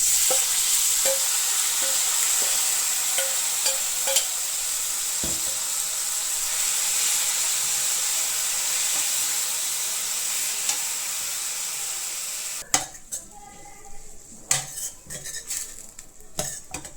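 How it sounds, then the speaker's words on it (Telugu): Steady frying sizzle with scraping and stirring as drumstick-leaf and gram-flour curry is added to tempering in a pan, then sharper clinks and scrapes of a utensil near the end. "తాలింపు బాగా ఫ్రై అయిందండి. ఇప్పుడు కూరని ఇందులో వేద్దాం."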